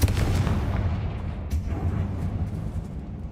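Repeated Confringo fire-spell blasts in the video game Hogwarts Legacy: deep, rumbling booms with a strong low-end roll that keeps going, heavy and loud, with a sharper burst partway through.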